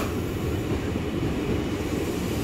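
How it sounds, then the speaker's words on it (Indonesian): A KRL Commuter Line train arrives at Manggarai station, a steady broad rumble of wheels and carriages rolling in at moderate level with no voices. "Komuterline tujuan Cikarang masuk Sudirman, rangkaian terdiri dari 10 kereta."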